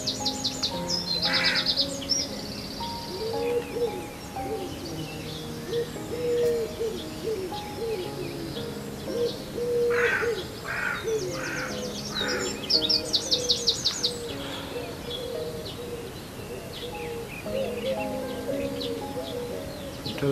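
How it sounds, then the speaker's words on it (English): Spring birdsong outdoors near a country church with primroses in bloom: several birds sing and call at once, with steady repeated whistled phrases, brighter chirping bursts and soft cooing notes, moderately near, continuing without any talking. "The spring birds singing."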